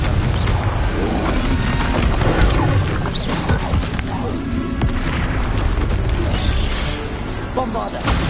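Booming spell blasts and crashing impacts from Hogwarts Legacy combat, including the Confringo fire spell, rumble continuously and loudly through a dense battle soundscape.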